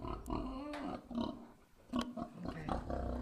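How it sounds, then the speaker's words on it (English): A hungry pig on a farm grunts and snorts repeatedly while pushing at a door, close and fairly loud in uneven bursts. "There's the pig trying to kill the door because she's hungry."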